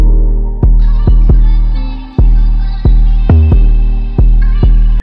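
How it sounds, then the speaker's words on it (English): Distorted, gritty 808 bass programmed in Ableton, heard alone as loud, sustained booming notes in a steady repeating pattern, each hit dropping in and decaying with harmonic buzz. "add some more distortion and grit to your 808"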